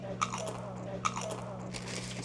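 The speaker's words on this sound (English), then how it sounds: "did you hear that crunch?" Two sharp crunches from biting into a tortilla chip topped with salsa, spaced about a second apart and followed by close chewing.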